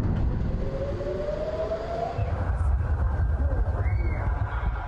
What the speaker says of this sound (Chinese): 响起防空警报并传出巨大爆炸声